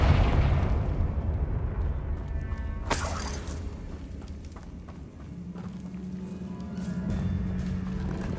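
A Confringo blasting spell from Hogwarts Legacy goes off as a single sharp, bright blast about a third of the way in, standing out over a steady low rumble and background game ambience, with no talking.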